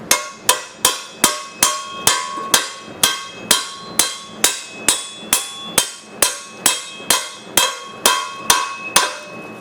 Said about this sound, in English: get a bigger hammer actually helps a lot too